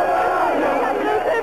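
Crowd of CSP Limoges basketball fans celebrating a European championship, a dense, sustained roar of cheering and shouting that stays loud and unbroken throughout.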